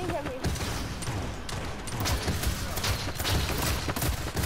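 Gunfire rattles in the battle royale game Realm Royale, dense bursts of shots and impacts layered continuously through the fight, with a player talking over the action.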